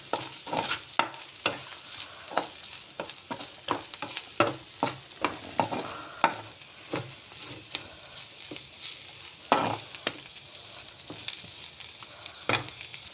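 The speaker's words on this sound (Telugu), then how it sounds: "దీన్ని ఒకసారి కలుపుకుందాం." Chili powder stirred into broad beans frying in a pan: a steady close sizzle punctuated by frequent sharp clacks and scrapes of the spoon against the pan, with no talk.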